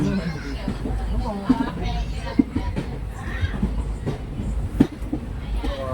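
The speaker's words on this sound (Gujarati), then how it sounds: "હાલ તો ટ્રેન ધીરે ધીરે ચાલે છે" A slow-moving train rumbles along the rails with rhythmic clacks and a low steady drone, while people talk nearby over the noise.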